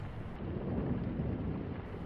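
A thunderstorm gives a low, sustained rumble of thunder with steady rain noise, loud and continuous with no voices.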